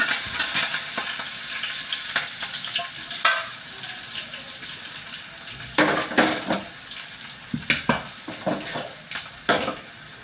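Onion and cabbage frying in a pan for a cabbage bhaji, a steady sizzle broken by louder bursts of stirring and scraping, with a few splashy clatters toward the end.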